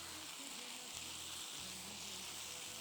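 Noodles stir-frying in a pan with a steady, hissing sizzle heard up close and alone, with faint low scraping and tossing underneath.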